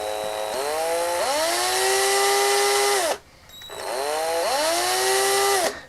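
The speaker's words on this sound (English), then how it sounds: "I'm just going to place that where I want to drill and quite slowly" A cordless power drill bores slowly into a plastic vintage Kenner Star Wars Imperial Troop Transporter toy gun, whining up to a steady high pitch in two long bursts with a brief pause between, loud and close.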